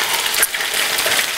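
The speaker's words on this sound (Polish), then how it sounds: "Chłopcy nam smażą jeszcze placki" Steady crackling sizzle of blini batter frying in a hot pan, close and continuous, with a faint clink partway through.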